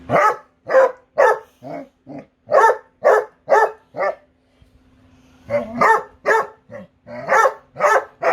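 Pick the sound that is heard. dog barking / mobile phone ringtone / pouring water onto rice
dog barking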